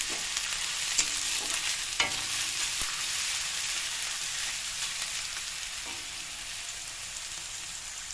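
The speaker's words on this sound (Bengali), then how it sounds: "ফার্স্টে দেখো একটু আলুটা হালকা করে ভেজে নিচ্ছি।" Continuous, even sizzle of potatoes frying in a pan, with soft crackling and a couple of light taps from stirring.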